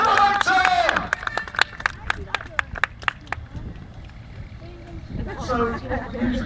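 Spectators at a Roman and Briton battle re-enactment clap outdoors with sharp, spaced, scattered claps between stretches of someone talking.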